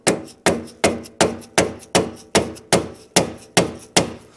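Hammer blows on the axle of a Polaris Ranger 800 utility vehicle, ten sharp metallic taps in a steady rhythm, each about half a second apart, loud and close with quick decay.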